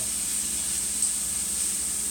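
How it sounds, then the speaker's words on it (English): Thawed golden chanterelle mushrooms cook in olive oil in a pan, giving a steady close hiss of sizzling and steam with no break and no voices. "You get a lot of steam off here, so I think some of that water is evaporating."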